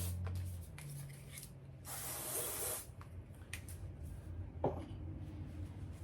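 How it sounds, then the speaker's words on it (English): Aerosol deodorant sprayed from a can in a quick get-ready routine, a single close, steady hiss lasting about a second amid small rustles and handling sounds. "before I put it on, I'm gonna spray some deodorant on"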